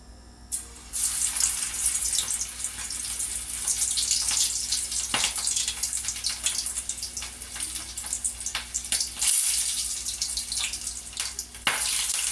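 Corn pakoda batter fries in hot oil, a loud, dense bubbling hiss broken by frequent sharp pops and crackles throughout, close up with no talk.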